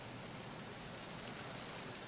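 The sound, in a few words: rain downpour in video game Metal Gear Solid 2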